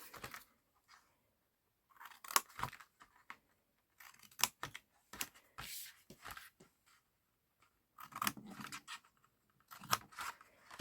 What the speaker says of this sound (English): I'm just going to cut a little angle out of each one.